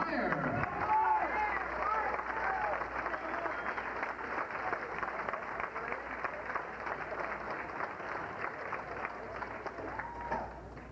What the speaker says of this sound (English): how about a round of applause for the driver of car 17